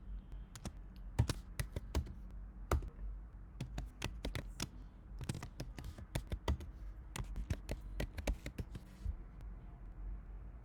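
A password typed on a computer keyboard, a quiet run of crisp individual key taps in irregular bursts with short pauses, close and alone.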